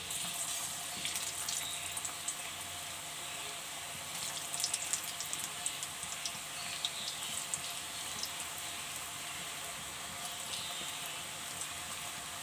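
Lachha pakoras sizzling in hot oil give a continuous faint crackling hiss, steady throughout with light bubbling pops and no talking.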